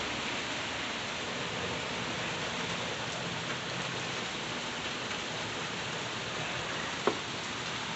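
Heavy storm rain pours straight down in a steady, even hiss with no letup, joined by one faint sharp tick near the end.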